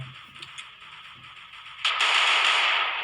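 Gunfire in the Free Fire video game during a 4v4 match, scattered sharp shots at first and then a dense, loud burst of rapid automatic fire that lasts to the end.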